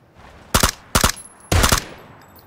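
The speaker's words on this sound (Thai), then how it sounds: "มีรถมันหันมาแล้วมันจะยิงแล้วล่ะ" Three loud, sharp bursts of automatic gunfire from a vehicle in a video game, separated by brief pauses, the last burst slightly longer, with little else around them.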